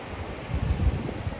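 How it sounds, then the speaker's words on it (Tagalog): Low, blustery sea wind at the shore rumbling steadily across the microphone, with a faint wash like distant surf behind it. "Sarap na hangin."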